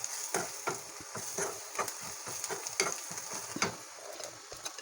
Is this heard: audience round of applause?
no